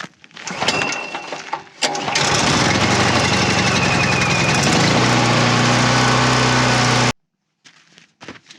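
A Firman dual fuel generator with a freshly cleaned carburetor and the choke on, heard up close: a few rattling pull-start attempts, then the small engine catches and runs loudly and steadily for about five seconds before cutting off abruptly.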